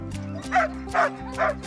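Sled dog Huskies on a training carousel bark in three sharp, evenly spaced bursts over a steady background hum, close and fairly loud.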